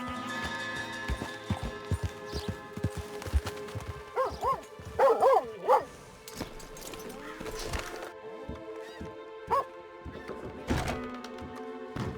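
A small dog barks in short bursts amid horse hoofbeats, thunks and other ambient noises on an abandoned farm in a survival western video game.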